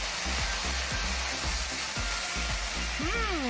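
Beef bulgogi sizzles in a hot pan, a constant loud frying hiss with occasional clinks and stirring scrapes from a utensil in the foreground.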